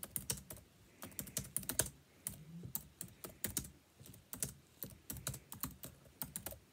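Rapid bursts of computer keyboard typing during a Nitro Type race, clusters of crisp clicking keystrokes with short pauses between, close and fairly quiet with no talking.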